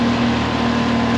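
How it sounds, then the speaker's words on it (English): A motorboat engine on a cod-fishing trip in the Solent runs as a loud, steady, close drone with a constant low hum, and no clear rise in pitch. "just going to up the revs"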